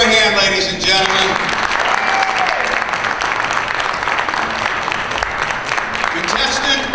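Audience applause fills a pageant hall, with a loud, continuous wash of clapping that holds steady for several seconds while an announcer talks over it.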